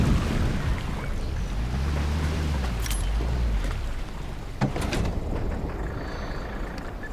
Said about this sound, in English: Pull the boat up to the dock and switch the engine off.